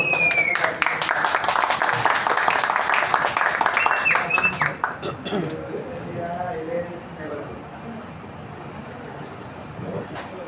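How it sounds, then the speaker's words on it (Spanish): An audience at a reading-therapy conference gives dense applause that fades out after about five seconds into quieter room noise, with a voice speaking faintly afterward. "Un aplauso."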